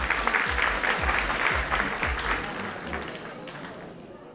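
A school freshman ball crowd bursts into sustained applause, dense and steady with some rhythmic low thumps early on and voices mixed in beneath the clapping.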